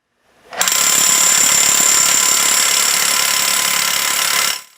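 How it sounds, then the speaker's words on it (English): Power drill boring a hole into solid concrete, one loud continuous grinding whine lasting about four seconds, close up with no talking. "Drill the hole perpendicular to the concrete surface and to the required depth."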